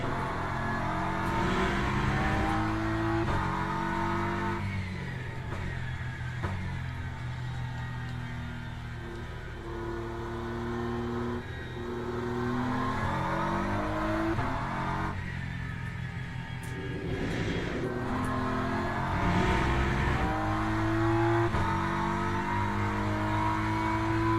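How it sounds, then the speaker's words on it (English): A BMW or McLaren GT3 race car engine in the video game Le Mans Ultimate revs and shifts repeatedly, pitch climbing and dropping through gear changes, loud and continuous with no talking. "I'm not a big fan of the way the car sounds"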